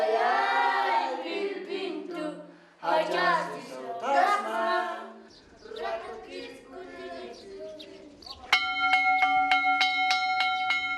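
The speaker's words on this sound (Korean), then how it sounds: "급식 시간을 알리는 종소리가 울리자" A school bell rings for lunchtime at a small mountain school in Bolivia, a steady ringing tone that comes in near the end after a stretch of children's voices and chatter.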